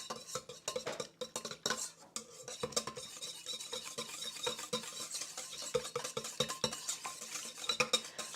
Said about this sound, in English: In this mixing bowl, we will add the oil, eggs, buttermilk, and the vanilla. We will use a whisk.